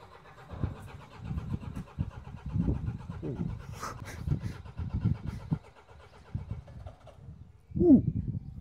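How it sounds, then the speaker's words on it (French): Preheated diesel car engine cranking and starting, a rough rhythmic churn of irregular bursts, then a louder catch as it fires near the end, with faint voices in the background. "Là, il a préchauffé, il va démarrer, écoute."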